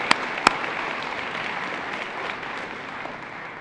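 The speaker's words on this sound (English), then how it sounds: "Give yourselves a big round of applause" Crowd applause in an aircraft hangar at a solar decathlon opening ceremony on a Thursday morning, a steady, moderately distant patter of many hands with two sharp near claps at the start.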